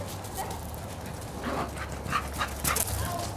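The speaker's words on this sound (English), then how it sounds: "The puppies are like, where's my mama?" Puppies whimper and yip for their mother, with a few faint, brief high cries over a low background hum, close by.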